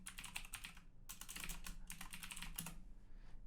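Typing on a computer keyboard while working in Unreal Engine 5, a close, quiet patter of quick key taps in three short bursts with brief pauses between them.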